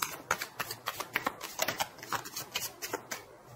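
Tarot cards being shuffled and drawn, a quick run of crisp riffling flicks and slaps close up, with no talk over them.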